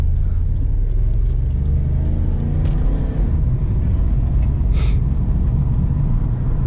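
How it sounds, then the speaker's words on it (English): Holden VS with a 5-litre V8 engine driving on the road, a loud, deep, continuous rumble heard from inside the car, steady throughout with a brief higher hiss near the end. "It's a very aggressive sounding car."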